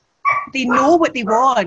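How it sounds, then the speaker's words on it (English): Dogs bark and yip in the background, loud and close, overlapping with a person talking indoors. "Apologies for the dogs."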